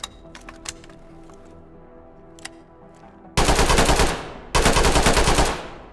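Two long bursts of rapid automatic fire from a pistol-sized weapon in the tactical shooter Ready or Not, loud and close, following a stretch of quiet clicks and handling noises.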